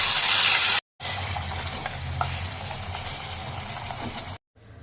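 Whole garam masala, dried red chillies and cumin seeds crackling in hot oil for a Bengali dahi prawn tempering, a steady close hiss and sizzle with light stirring, broken by two short silent gaps.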